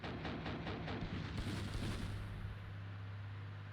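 Dense rumbling barrage of mortar and artillery blasts in the Cold War wargame Armored Brigade II, rapid overlapping booms for a couple of seconds, then easing into a low, steady rumble.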